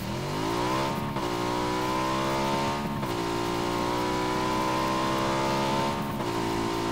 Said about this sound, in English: I'm mostly driving along this road to see if we can find another vehicle first.